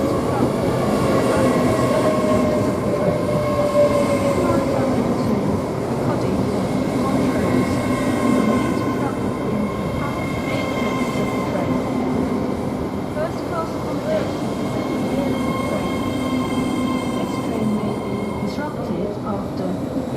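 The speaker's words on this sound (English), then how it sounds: "this one is the London King's Cross towards Aberdeen, which is the 1252 service" A London King's Cross to Aberdeen service at Peterborough station, a loud, steady rumble of a train passing close by, with faint wheel squeal and a high whine running throughout.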